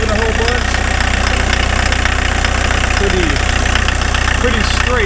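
A 1981 Volkswagen Rabbit pickup with a TDI diesel engine runs steadily on a new belt, a loud, constant idle with a knocking diesel rumble and faint chirps, while a voice speaks over it.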